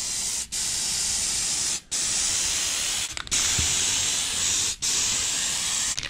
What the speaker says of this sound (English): I've got me spray adhesive.